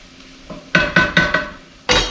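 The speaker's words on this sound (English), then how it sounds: "One more stir." Potatoes being stirred in a cooking pan before mashing, a few close scraping strokes in a steady rhythm with soft sizzling beneath, no talking.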